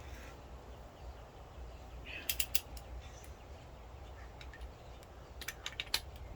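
A ratchet tightens the lower intake manifold bolts on a Ford Ranger, faint with quiet workshop background and a couple of brief bursts of rapid clicking.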